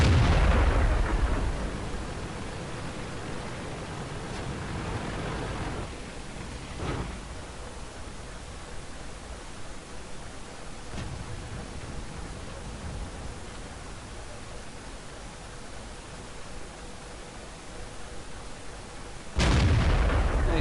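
An STB-1 tank gun fires in a video game, with a heavy boom at the start, another a few seconds later and a final blast near the end, all over a steady broadband rumble.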